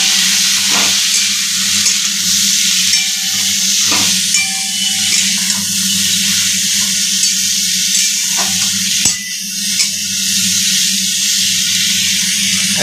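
Drumstick stalks fry in a pan with sugar, giving a loud, steady, close sizzle with occasional soft clicks of stirring throughout.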